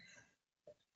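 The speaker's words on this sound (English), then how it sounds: "excuse my cough" A single sharp cough bursts out at the very end after near silence, loud and close, during an indoor prenatal yoga session.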